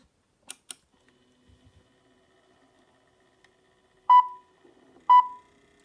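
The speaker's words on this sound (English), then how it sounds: "the camera is sounding an audible double beep" Two short bright electronic beeps about a second apart, clear and close, after some faint mechanical clicks and whirring.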